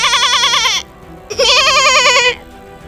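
A man imitates a goat with two long, quavering bleats, the first lasting nearly a second and the second longer after a short pause, loud and close with no talking.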